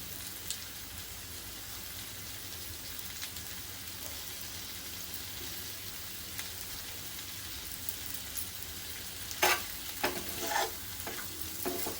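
Garlic prawns (lasuni kolambi) sizzling in a pan with garlic and coriander, a steady crackling fry throughout with occasional louder spits and stirring scrapes near the end, no talking.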